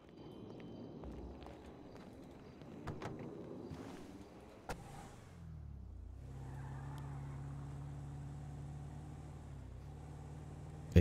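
A car driven in the NBA 2K21 basketball video game, heard first as shuffling movement and a door thunk, then a steady engine hum that rises in pitch and holds at a constant drone.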